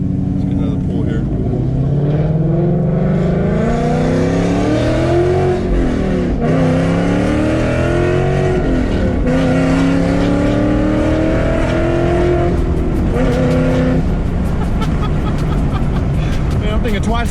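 A Ford Mustang GT engine revs hard through an acceleration pull, its loud, rising drone climbing steadily with brief dips at gear changes and continuing for the whole stretch.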